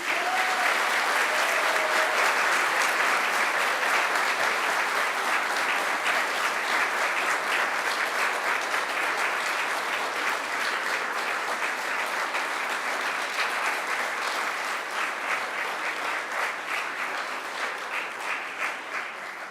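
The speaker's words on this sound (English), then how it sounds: "And now I invite you to give them a mighty round of applause." A graduation audience gives a long, loud round of applause, dense clapping sustained throughout and slowly thinning toward the end.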